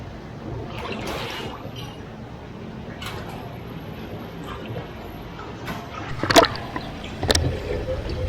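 A 74-year-old chrome bumper dipped back into a clean rinse-water tank during rechroming, with soft sloshing and trickling over a steady workshop hum, and two brief louder splashes near the end.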